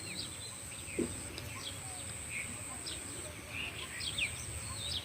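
A bird calling outdoors with scattered short chirps and tweets, faint over a soft ambient background and a steady high hum, repeated irregularly across the stretch.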